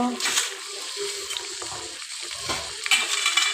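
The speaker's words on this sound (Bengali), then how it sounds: "এই মাংসগুলো হালকা করে ভেজে নিব" Chicken pieces lightly frying in a pan on an electric heater, a steady close sizzle with bright crackle and occasional stirring scrapes, continuous throughout.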